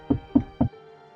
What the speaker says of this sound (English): Then knocking from the other side of the room.